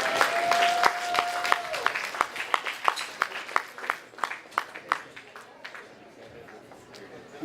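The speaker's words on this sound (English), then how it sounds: "Please clap him." Audience at an anniversary event applauding a speaker from the Jamaican Canadian Association, a scattered burst of individual claps that thins out toward the end, with a brief voice early on.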